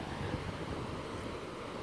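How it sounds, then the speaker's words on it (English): Big ocean waves breaking on a California shore give a steady, broad roar of surf with wind noise on the microphone, no distinct crash. "Look how big the waves are"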